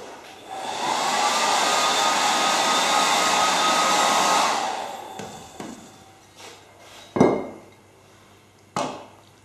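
A hair dryer blows steadily for about four and a half seconds, drying crackle paint and gilding glue on a craft plate, then cuts off, leaving a few sharp knocks and handling noises.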